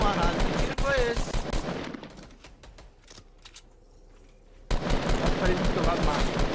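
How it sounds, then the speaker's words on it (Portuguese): Bursts of rapid Fortnite gunfire crackle amid excited talk, pausing into near silence midway before the shooting and voices return. "Que tiro foi esse?"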